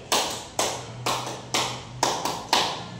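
A class performing a rhythmic tepuk semangat clap: six sharp, evenly spaced claps about half a second apart, loud and close, with a short decay after each.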